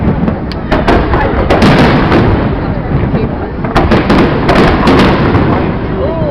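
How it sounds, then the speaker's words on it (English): Fireworks burst repeatedly at the Aquatennial show, a dense, continuous rumble of booms and crackling pops with sharp louder reports scattered throughout, with crowd voices murmuring underneath. "We all lit up in fireworks."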